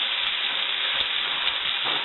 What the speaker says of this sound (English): Going to get those onions cooking really nicely.